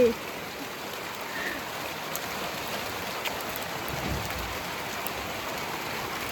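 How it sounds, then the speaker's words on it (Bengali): Steady rain falls and patters on surfaces, a soft, even hiss that continues without pause. "বৃষ্টি পড়ছে রে, বৃষ্টি পড়ছে"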